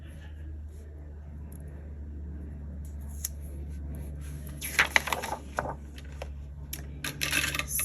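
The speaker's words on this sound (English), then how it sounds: "Scissors." Scissors snip through paper stickers for a decorative planner spread, a few short close cuts and rustles over a low steady hum in a quiet room.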